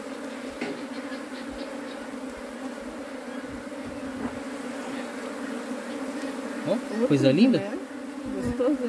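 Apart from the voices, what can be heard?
swarm of honey bees at a hive box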